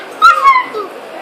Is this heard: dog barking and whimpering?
yes